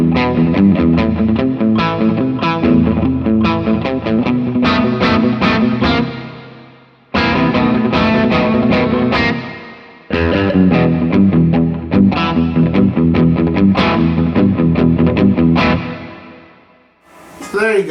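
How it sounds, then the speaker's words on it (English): Electric guitar played loudly through a Fender Bassbreaker 15 amp with digital reverb at full level, giving driven, distorted strummed chords in repeated rhythmic phrases with short pauses, each phrase ending in a brief reverb tail. "It's a digital reverb, so it's not a real spring reverb."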